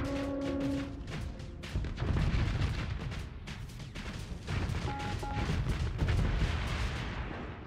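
Ion cannon shots fired in the space combat game StarSector, disabling a pirate Hound's engines: a loud, dense run of booming blasts and crackling impacts over a low rumble, with a few brief tonal beeps in between.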